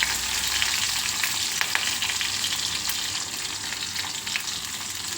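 Green chillies, curry leaves and cumin sizzling in hot oil for shavige bath, a dense steady crackling fry with sharp spits and pops, close and loud, with no talking.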